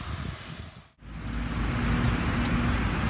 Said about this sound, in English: The rain's caught up with me